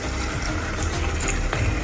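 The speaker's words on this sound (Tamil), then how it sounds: "அடுத்தது தண்ணிப்பால் 300 ml எடுத்திருக்கேன், அதையும் நம்ம இதுக்கு சேர்த்துருவோம்." Thin coconut milk, 300 ml, poured into a fenugreek leaf and masoor dal curry makes a continuous close, loud watery rush that lasts the whole moment without a break.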